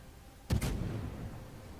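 Guns firing from a Worcester cruiser in World of Warships, a single sharp close report with a quick double crack, followed by a rumbling decay.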